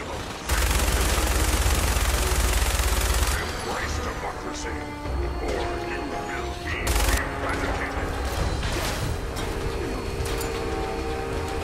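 Rapid automatic gunfire rattles loudly in a Fallout 4 firefight for a few seconds, then sporadic shots and impacts continue more faintly beneath game ambience and voices.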